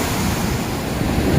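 A river rushes past, a loud, dense, broadband roar of flowing water with wind buffeting the microphone, steady across the short moment.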